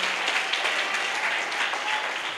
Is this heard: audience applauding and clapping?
yes